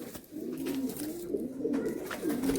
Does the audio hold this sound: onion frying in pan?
no